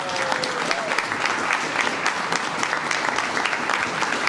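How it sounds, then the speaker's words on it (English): A crowd at a scouting district awards ceremony gives steady, dense applause for the Eagle Scout Board of Review members, loud and sustained throughout. "everybody give them a round of applause"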